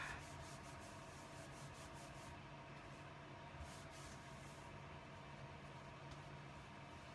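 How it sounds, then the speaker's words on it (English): A hand rubs firmly over glued card in a card-making session, producing a steady close-up soft brushing friction that runs the whole time with faint rhythmic strokes. "Turn it over. Give it all a good rub."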